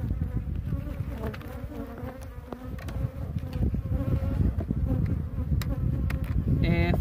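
A swarm of honey bees buzzing steadily and densely during a hive transfer at a rural farm, a close, continuous droning hum that holds throughout with no talk.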